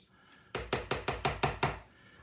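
A utensil knocks against the dish while stirring a chicken casserole with melted cheese: seven sharp, evenly spaced raps, close and clear, with no talking.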